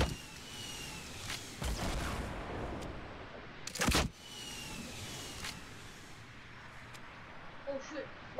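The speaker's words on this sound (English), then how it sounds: "Oh, they're firing at us." Gunfire in an online shooter video game: several sharp, loud bursts and booms scattered at irregular moments, one heavy blast standing out, between quieter stretches of background game noise.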